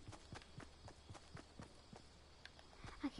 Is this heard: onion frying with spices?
no